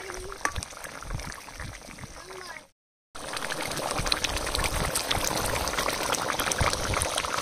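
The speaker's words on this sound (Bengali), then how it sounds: "এবার 3-4 মিনিট ফুটিয়ে নেব।" Stuffed pointed gourd curry boils in a pot, giving a continuous soft bubbling hiss that drops out briefly and then returns slightly louder and steadier.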